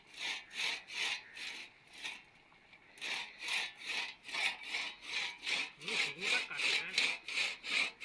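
A hand saw cuts through the trunk of a dead tree in steady back-and-forth strokes, close and rasping, with a brief pause before the rhythm picks up again and grows slightly faster.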